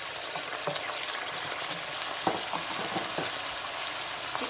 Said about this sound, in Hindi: अब हम इसे कुछ देर तक फ्राई करते हैं